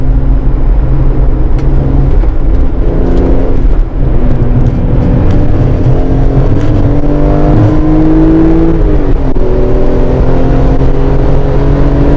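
BMW E46 M3 inline-six engine revving hard while driving, a loud continuous roar with rising and falling pitch as it accelerates through the revs, no talk over it.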